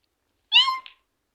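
A gray cat gives a single short, clear meow up close, with a small trailing chirp and silence on either side.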